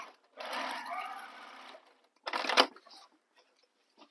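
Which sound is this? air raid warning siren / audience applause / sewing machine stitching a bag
sewing machine stitching a bag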